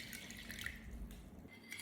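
Warm water is poured onto a spoonful of salt while making dough for onion wheels, a faint, steady trickle with no voices.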